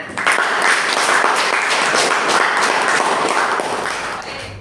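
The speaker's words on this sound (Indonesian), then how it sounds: "Silakan tepuk tangan." A classroom of students applauds after a group discussion, with a brisk, dense burst of clapping close by that holds steady and then tapers off slightly.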